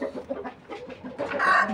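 A rooster, one of several birds kept by a fancier, gives a clucking, rising call that swells into a loud crowing burst near the end, close and alone without talk.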